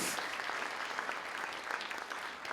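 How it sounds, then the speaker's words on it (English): Lecture audience applauding at an Alzheimer's disease research evening, a dense, steady wash of clapping hands that holds at full strength throughout without any talk over it. "Please, it's worthy of an applause."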